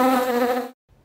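A voice imitates a bee's buzzing in a steady, nasal drone that stops abruptly after most of a second, followed by a brief faint sound.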